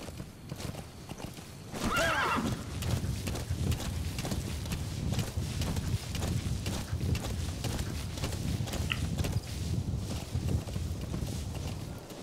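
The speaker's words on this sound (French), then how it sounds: "Je savais bien qu'on pouvait appeler le cheval" A horse in Metal Gear Solid V: The Phantom Pain whinnies loudly near the start, then its hooves clip-clop in a fast, steady galloping rhythm for the rest of the clip, with a constant low rumble underneath.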